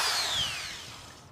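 A power drill with a 1/4 inch bit enlarges the holes of a subwoofer mounting bracket during a Ferrari 360/430 installation, giving a single short high whine that slowly falls in pitch and fades.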